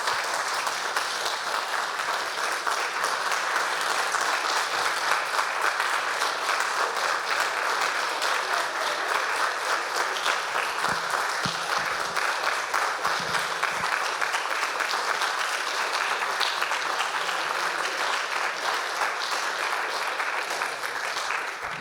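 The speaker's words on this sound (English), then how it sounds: "Round of applause for all our fantastic musicians tonight" Sustained audience applause for musicians at an evening concert, a dense, steady wash of many hands clapping at even loudness throughout, with no talk over it.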